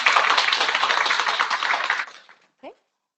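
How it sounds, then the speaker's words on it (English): Audience at an e-learning faculty development session breaks into dense, steady applause for the program team, which carries for about two seconds before quickly dying away, followed by one brief trailing sound. "So I guess we can clap for these."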